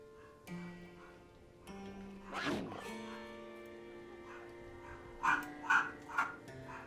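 A small dog barking in the background, three short yips in quick succession near the end, preceded by soft rustling and faint tonal sounds.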